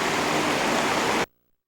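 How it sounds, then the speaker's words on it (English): A full creek with water rushing steadily downhill into it, a loud, even roar of flowing water close by that cuts off abruptly. "here's the water headed down to the creek, and it's full today"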